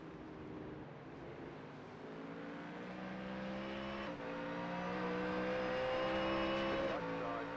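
Race cars in the iRacing sim at the Nürburgring 24H drone steadily with several engine notes stacked together, pitches climbing and shifting as traffic closes in and passes, holding loud and continuous throughout.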